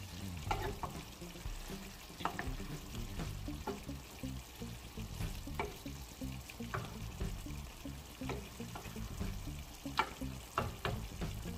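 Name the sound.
stirring cooked noodles in a pan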